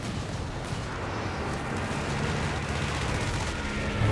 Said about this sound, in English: And there goes the land mattress, laying some great hits actually.